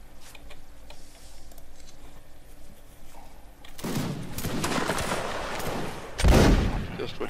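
Musket volleys in a Mount and Blade line-battle game, a low busy background that gives way to a loud rolling burst of massed gunfire, then a sharper close crack near the end.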